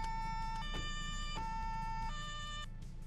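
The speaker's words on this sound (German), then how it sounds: "ich kann die Sirene nicht mehr hören" A police siren blares in a driving video game, a two-tone electronic wail alternating steadily and loudly over a low engine drone, with no talking.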